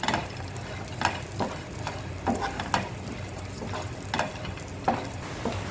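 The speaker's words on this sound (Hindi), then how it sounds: "इसको भी थोड़ा सा इसी के ही साथ में भून लेते हैं" Raisins and walnuts roast in a pan amid a low sizzle, while a spatula scrapes and stirs them in irregular strokes roughly every half second to second.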